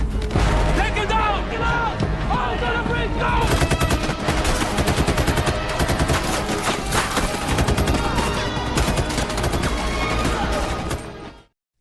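A heavy shootout from the action film Expendables 4 rages with dense, rapid machine-gun bursts and loud gunshots, crashes and impacts over an intense score, voices mixed in, before cutting abruptly to silence.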